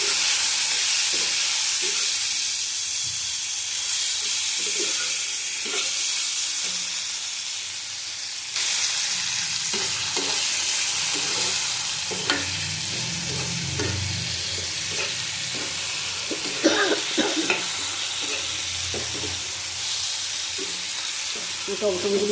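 Boiled vegetable stalks are stirred and fried in a pan for a lentil dal, giving a steady sizzle and hiss with repeated utensil scrapes and clicks, moderately loud and continuous, without talk.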